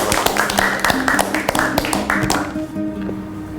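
Clapping from a gathered group of residents at a community meeting in a neighbourhood, with uneven hand claps over the first couple of seconds that thin out and fade toward the end.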